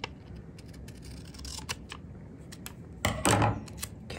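Scissors cutting paper for a planner layout, a few quiet snips and crisp rustles spread across a few seconds, with one louder snip and crinkle near the end and no voices.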